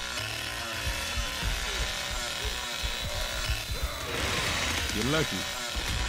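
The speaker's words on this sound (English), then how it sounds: "Like, why the fuck is the chainsaw that loud?" A chainsaw in the Texas Chainsaw Massacre video game roars loudly with a rough, churning mechanical buzz that runs throughout, while someone talks over it and other game sounds clatter in the mix.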